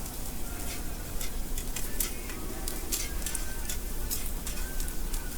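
Onions frying in a pan while chowmein is cooked, a steady close sizzle with crackling pops and occasional stirring clicks throughout.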